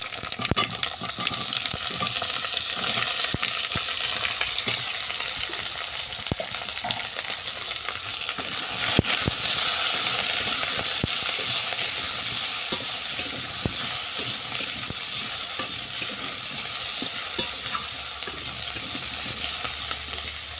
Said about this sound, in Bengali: সমস্ত কিছু ভেজে নেওয়ার পর বেগুনটাকে তুলে দিচ্ছি